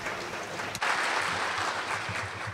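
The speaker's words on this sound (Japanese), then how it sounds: "大きな拍手でお迎えください。" Audience applause at an education reform symposium in Tokyo welcoming a visiting UC Berkeley professor to the podium, a dense steady wash of clapping that swells after a brief dip and carries on loudly throughout.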